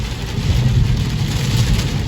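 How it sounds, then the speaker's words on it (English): Heavy rain falls steadily through a thunderstorm, a continuous dense wash of noise with a low rumbling undertone, loud and unbroken throughout, with no voices. "it's a lot of rain right now"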